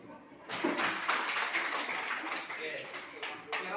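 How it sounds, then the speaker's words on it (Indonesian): A school class clapping hands during a civics (Pancasila) lesson, a burst of many close claps starting abruptly and continuing as a dense patter for about three seconds, with a few voices mixed in. "Oke, tepuk tangan dulu."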